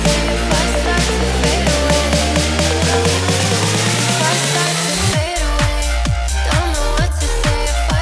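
Dense EDM track with a sample pitch-shifted up a full octave, rising in a long upward sweep that accelerates before dropping into a driving beat with punchy kicks, loud and continuous.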